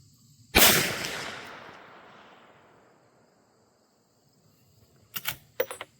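A Henry lever-action rifle in .357 Magnum fires one loud, sharp shot outdoors with a long decaying echo, followed by quick clicks and clacks of the lever being worked.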